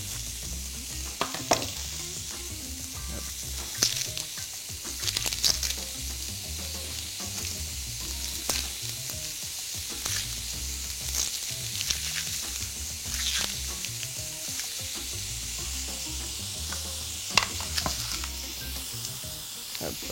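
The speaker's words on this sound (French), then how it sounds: "on fait sauter nos betteraves quelques minutes" Beets sautéing in a pan, a continuous loud sizzle with scattered sharp crackles and the occasional soft scrape of stirring, steady for a long stretch with no talking.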